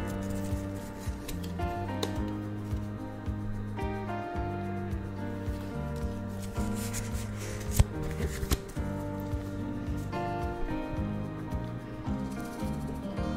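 Pokémon trading cards from a fresh pack are shuffled and flicked by hand, giving a soft, continuous papery rustle with a few sharper snaps, partly masked by steady background music.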